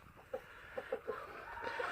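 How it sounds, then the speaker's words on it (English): Muscovy ducks, a male and a female, give soft scattered clucking calls against steady background noise and low outdoor murmur. "It's not a Muscovy chicken, guys. It's a Muscovy duck."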